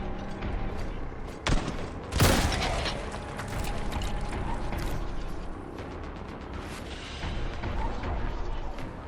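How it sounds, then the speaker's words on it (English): Gunfire in the video game Boltgun, with two heavy, booming blasts that could be a shotgun rising over a constant noisy mechanical din, loud and close. "A shotgun?"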